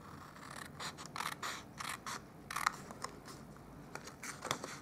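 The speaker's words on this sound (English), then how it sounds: "I'm just going to use my paper snips." Small paper snips cut through cardstock along a score line while a treat pouch is made, giving a series of short, quiet crisp snips and crunches in an irregular rhythm, close by, with no talking.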